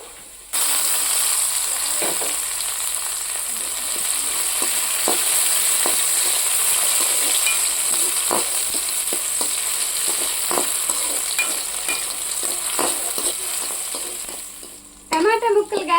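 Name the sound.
tomato pieces frying with capsicum, onion, carrot for Maggi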